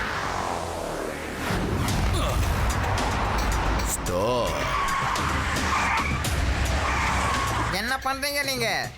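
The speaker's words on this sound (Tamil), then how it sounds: "இந்நேரம் நான் பிரேக் போடாம உங்க மேல இடிச்சிருந்தா" A cartoon car brakes hard and its tires skid with a loud, sustained screech over music and effects, ending in a wavering squeal near the close.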